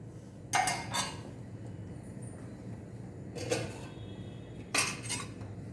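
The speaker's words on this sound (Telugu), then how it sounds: "మధ్య మధ్యలో కలబెడుతూ ఉండండి ఉండగట్టకుండా." A spoon stirs pongal sambar in a cooking pot, scraping and clinking against the metal in three separate bursts with quiet pauses between them.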